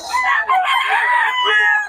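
Young gamecock stags at a Bocaue rooster market crow and cluck continuously, loud and close, with several birds overlapping for the whole stretch.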